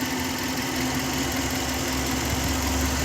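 A 2003 Subaru Forester engine idles with a steady, even hum and low rumble while upper engine cleaner is applied, heard up close with no talking.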